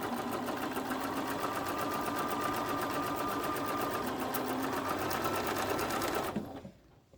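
A sewing machine runs steadily and close while joining quilt rows for a Christmas tree block, its fast even stitching rhythm continuing without pause for about six seconds before stopping and fading out.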